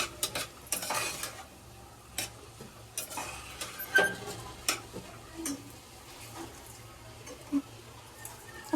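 Homemade red masala being sautéed in a pan, with repeated sharp metal spoon scrapes and taps over a faint sizzle, irregular and fairly quiet, no speech.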